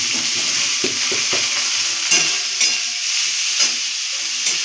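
Vegetables for veg singara frying in a pan with ginger, a close, loud continuous sizzle broken by repeated soft scraping knocks of stirring.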